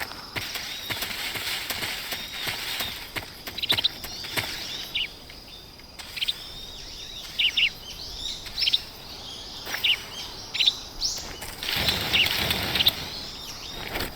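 Birds chirp and flutter in the jungle of the video game Metal Gear Solid 3, with repeated short bursts of calls and wing noise over a soft ambient bed, some clusters louder and closer, with no speech.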